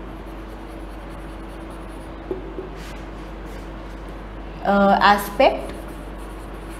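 Marker writing on a board: a few brief scratchy strokes while a man lectures, the scribbling faint under his voice.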